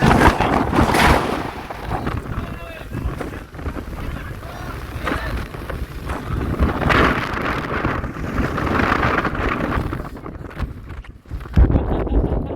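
Strong gusting wind on Girnar mountain buffets the microphone in loud, continuous roaring waves that rise and ease over several seconds.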